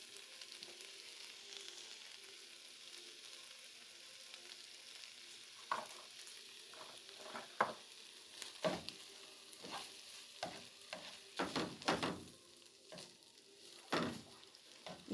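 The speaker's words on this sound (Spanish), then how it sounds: "Aquí le voy a echar un poquito más de mantequilla para que no esté tan seco el huevo" Eggs cook in butter with garlic in a frying pan, giving a steady soft sizzle with scattered scraping and stirring clicks from a utensil, more frequent in the second half, and no voices.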